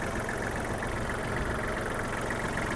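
Kubota GL-320 mini tractor with a 1.5-litre three-cylinder D1503 diesel idling, a steady, loud, close rumble that stays constant throughout with no talk.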